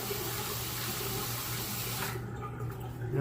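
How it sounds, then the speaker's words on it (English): Running tap water wets a razor, a close, loud, steady stream splashing into a sink that cuts off abruptly near the end, leaving only a faint low hum. "I'll wet the razor"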